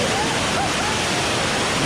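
A waterfall in Jamaica roars as a constant, dense rush of falling water, loud and close throughout, with faint voices barely showing through the noise.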